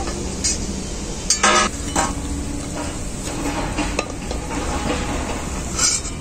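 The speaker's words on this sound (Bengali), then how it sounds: "বাকি বড়াগুলো আমি একইভাবে ভেজে নেব।" Raw banana fritters frying in a pan, a steady sizzle of oil with close metallic clinks and scrapes from stirring and turning, a few louder knocks.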